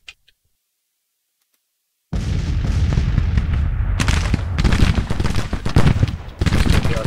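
Artillery fire in Grand Tactician: Civil War, a strategy game of American Civil War battles in Arkansas: silence, then a sudden loud roar of booming cannon volleys and crackling gunfire that swells and keeps rolling.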